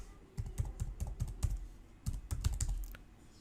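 Rapid keystrokes on a computer keyboard while a domain name is entered, two short bursts of clicky taps close to the mic with a brief pause between them, no talking.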